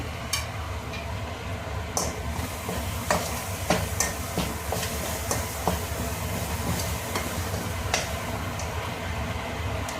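Vegetable masala roasting in oil in a kadai while it is stirred for a hotel-style mixed vegetable curry: a steady, close sizzle broken by scraping clicks of the spoon. There is no talking.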